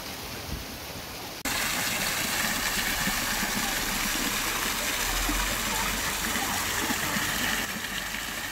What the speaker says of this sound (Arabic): نافورات الماء تلقاهم في كل مكان، ولكن ماشي مبنيين هكا في كلاس، دايما يزينوهم